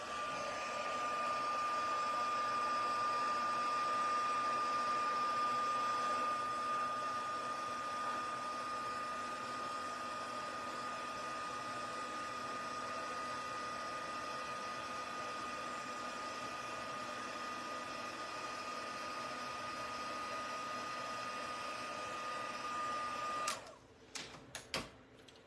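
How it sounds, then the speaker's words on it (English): A heat gun used for card making blows with a continuous loud whooshing hum and a steady high tone, then cuts off near the end, followed by a few small clicks and handling sounds. "heat gun's going on"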